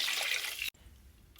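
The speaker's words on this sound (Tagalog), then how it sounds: "maglagay na tayo ng tubig." Water pours into a pot for meatball soup, a brief close hiss and splash that stops abruptly, then a moment of quiet before another short gush.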